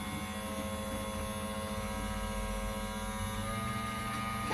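An electric jug kettle runs with a steady, continuous electrical hum and buzz through the whole stretch, moderately loud and unbroken, with no voices.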